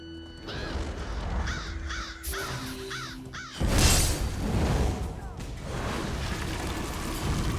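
Crows in Elder Scrolls Online giving a series of harsh caws over a rushing, windy ambient bed, with a sudden loud whoosh-like swell midway.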